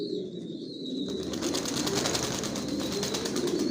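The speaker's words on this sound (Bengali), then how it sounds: "জনসনের লংয়ের কবুতর দিয়ে শর্ট পিরিয়ড লং সবভাবে রেস করা যায়।" Racing pigeons in a loft make soft cooing and rustling amid a steady, busy background hum, close and moderately loud throughout.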